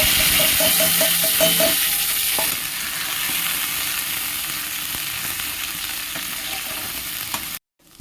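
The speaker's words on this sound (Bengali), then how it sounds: "তেল গরম হয়ে গেছে, দিয়ে দেবো পেঁয়াজ, আদা ও কাঁচা লঙ্কা বাটা, আর আছে পোস্ত বাটা।" Onion, ginger and green chilli paste with poppy seed paste sizzles loudly in hot mustard oil, with steady frying hiss and a few stirring scrapes early on before cutting out near the end.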